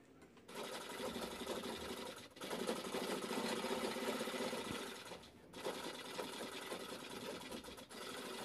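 A sewing machine stitches piping onto a bag made from a saree: steady, loud, rapid whirring with brief pauses where the needle stops and restarts, close up and without talk.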